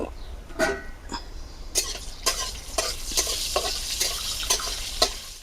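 Red amaranth and ponka greens frying in oil with whole cumin seeds and 4-5 garlic cloves: a steady close sizzle broken by repeated sharp stirring scrapes and crackling bursts, with no talking.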